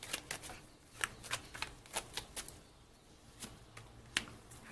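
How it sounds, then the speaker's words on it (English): Tarot cards being shuffled by hand, a quiet run of crisp riffling snaps and soft slides in irregular bursts, with no talking. "Oh no, oh no, I'm very bad at shuffling."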